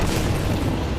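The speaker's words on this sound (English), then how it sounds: "Any cover is annihilated by the American Sherman's main cannons." An American Sherman tank's main cannon fires in a World War II battle in the Ardennes, heard as a dense, continuous booming roar that stays loud for the whole moment.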